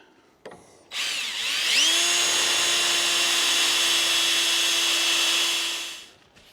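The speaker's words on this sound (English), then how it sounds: "Drilled 2 holes in the ends, push those polyurethane mounts in there." Close power drill boring holes in the ends of a metal radiator mount for a big Jeep radiator, a steady high whine held for about five seconds after a short spin-up, with no talking.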